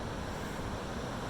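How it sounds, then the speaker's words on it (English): Ocean waves crash steadily onto a shore near a campsite, with gusting wind buffeting the microphone, making a dense, continuous roar. "the waves are crashing in"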